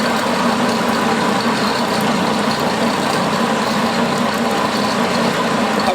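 Milling machine taking a fairly heavy cut on dovetails, a steady, dense mechanical drone running evenly and unbroken throughout.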